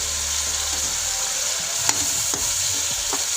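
Chicken fries in a masala with lemon juice, sending up a steady bright hiss. A spoon stirs with a few scraping knocks near the end, and no one speaks.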